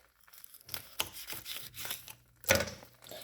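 A knife slices a pepper down the middle with a few close crunchy cuts and rustling knocks, ending in one louder crisp snap near the end.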